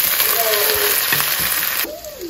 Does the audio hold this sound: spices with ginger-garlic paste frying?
yes